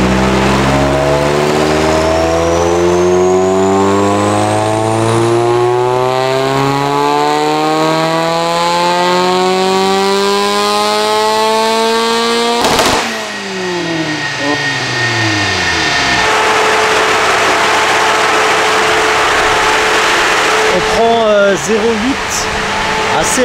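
A 20VT car engine is run up on a dyno, its revs climbing steadily into a loud, rising engine whine with rich harmonics, then a sharp bang, dropping revs and renewed revving close by.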